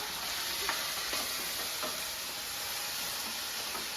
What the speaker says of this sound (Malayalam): ഇനി നമുക്കിത് നന്നായിട്ടൊന്ന് ഇളക്കി കൊടുക്കാം